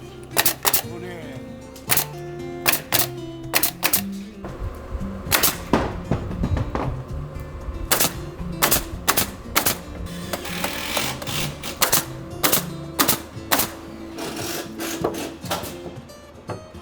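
Screws driven from behind into a wooden fascia board during the framing of a traditionally built house, with repeated sharp clattering bursts from a power driver and tool clicks in irregular rhythm, close, amid faint background talk.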